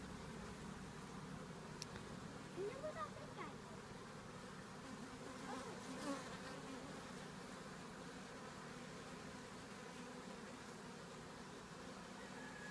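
Honeybees hum in a low, steady drone during a backyard hive inspection, a faint continuous buzz with no talking.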